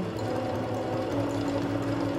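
A Singer Curvy sewing machine runs a steady stitching program, its motor hum and needle rhythm continuous and fairly loud throughout, with no voices.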